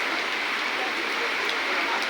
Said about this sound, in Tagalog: Sobrang lakas talaga ulan.